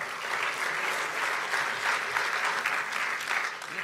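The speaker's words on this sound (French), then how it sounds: "Vous pouvez l'applaudir." An audience at a talk on digital policy applauds a speaker, with sustained, dense clapping from a large crowd, even and full throughout.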